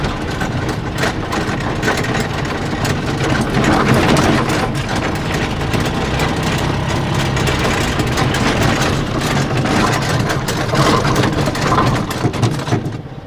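A homemade mini hydraulic tipper lorry's engine runs steadily while driving, a loud continuous close rumble that holds throughout with slight swells in intensity and no talking.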